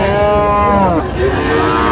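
Friesian cross bull cattle moo at a livestock market in Dinajpur, one long, loud, drawn-out low call with a rising-and-falling pitch, close by over a busy crowd murmur.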